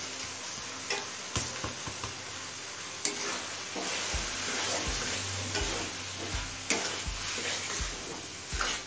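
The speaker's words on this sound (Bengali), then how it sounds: "চালটা দিয়ে মিনিট 5-6 ভেজে নিয়েছি।" Gobindobhog rice frying in a gravy for prawn pulao: a constant close sizzle with periodic stirring strokes and soft knocks of a spoon against the pan, no voices.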